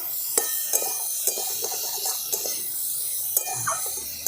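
A spatula scrapes and clicks against a pan as vegetables seasoned with salt and turmeric are stirred. The strokes come as sharp, irregular taps over a faint background sizzle.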